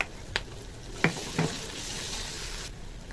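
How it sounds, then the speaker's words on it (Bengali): Onion, green chilies and garlic paste fry in a pan for a Bengali rui fish curry, a steady close sizzle with a few sharp stirring clinks early on, no talking. "পেঁয়াজটা হালকা ভাজা হয়ে গেছে, কাঁচা লঙ্কাগুলো দিয়ে দেবো।"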